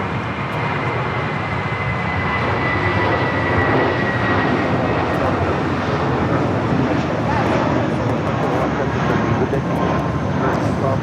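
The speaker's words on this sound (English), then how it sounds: "This flight coming in from Atlanta, Georgia on the 757 at 300." Boeing 757-300 inbound from Atlanta at Los Angeles International Airport, a loud continuous jet roar holding steady throughout, broad and rushing, with a faint high engine whine.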